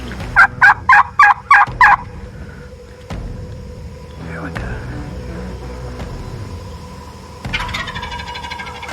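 A wild turkey gobbles loudly and close during a turkey hunt, a rapid burst of five or six throaty pulses in the first two seconds, followed by quieter rustling and low murmured voices.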